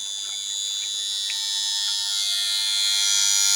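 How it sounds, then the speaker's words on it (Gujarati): An electric water pump motor on a farm runs with a steady, loud, buzzing hum that grows slightly louder and continues without stopping. "આપણે મોટર બંધ કરી દીધી છે."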